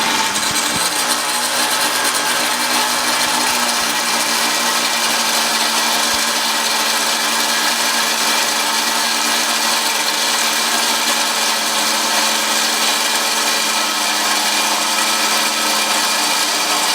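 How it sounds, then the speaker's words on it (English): Blender whirring steadily at high speed while melted butter is drizzled in to make hollandaise sauce, a loud continuous motor whine with no pauses throughout. "I'm just going to turn on my blender"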